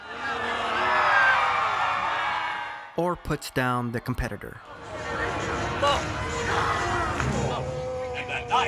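A crowd at a Renaissance faire joust cheers, whoops and yells in a loud, sustained roar, breaking off midway while someone talks, then building back into scattered shouts and cheering.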